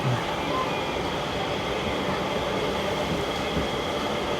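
A train pulling out of Neyyattinkara station and gathering speed on the Thiruvananthapuram–Nagercoil line, a steady close rumble of wheels and carriage noise with no pauses.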